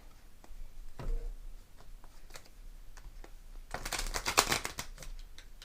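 Soft riffling and slapping of tarot cards being shuffled, with scattered clicks early and a denser burst of shuffling near the end.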